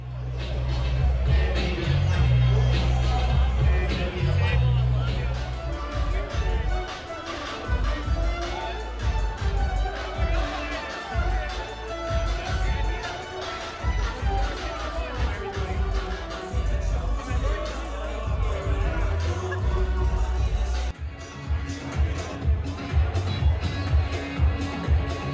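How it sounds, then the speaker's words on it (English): Crowd chatter fills a busy open bar party, a dense babble of many voices over thumping loud music, steady for the whole stretch. "We went to the Mega party, which was a really nice open bar party."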